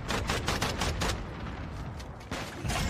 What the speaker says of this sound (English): Oh my god, there's clusters going off.